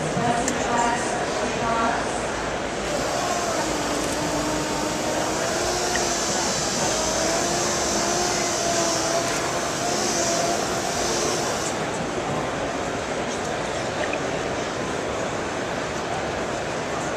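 Machine sanding a car panel with 3M Trizact: a steady, whirring buzz that runs throughout at moderate level, with someone talking over it.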